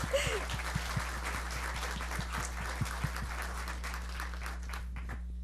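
Conference audience applauding its sponsors, a dense sustained patter of many hands clapping in a large room, with a steady hum underneath.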